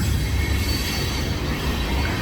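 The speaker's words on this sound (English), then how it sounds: "this loud ass train." A loud train rolls past close by, a constant heavy rumble and rattle of railcars with high wheel squeal, filling the whole stretch with no talk.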